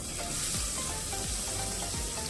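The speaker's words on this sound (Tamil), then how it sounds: "சேர்த்து வெங்காயத்தை நல்லா வணக்கி விட்டுக்கோங்க" Onions frying in a pan of hot oil for vegetable biryani, a steady close sizzle throughout with a few soft stirring scrapes.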